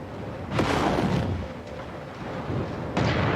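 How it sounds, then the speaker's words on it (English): Ammo explosions on a damaged mech in MechWarrior 5 Mercenaries gameplay, several heavy booming blasts with rumbling decay, separated by quieter stretches of low battle noise. "He's got ammo explosions going on."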